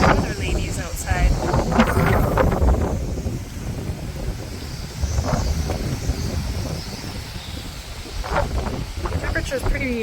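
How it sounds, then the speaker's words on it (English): Gusty wind buffets the microphone outdoors by the docks on a warm day ahead of Hurricane Helene, a steady low roar with louder surges, while people talk intermittently over it. "obviously I can't help it, it's windy out"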